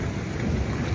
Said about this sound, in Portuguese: Chuva de pedra aqui em Curitiba agora.